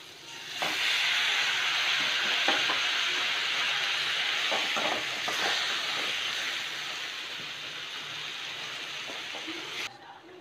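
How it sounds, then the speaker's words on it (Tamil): Tomatoes and onions sauté in a pan for a Catla fish curry, giving a steady, close sizzling hiss broken by several sharp spoon-and-pan clacks from stirring, with no talking. "இப்போ பாருங்கள், தக்காளி ஓரளவுக்கு வதங்கி வந்துருச்சு."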